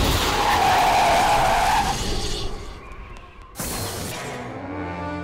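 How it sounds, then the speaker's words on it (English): A cartoon clown car skids loudly with a sustained tire squeal that fades out, followed by a sudden burst of noise and clattering. "That's a clown's car."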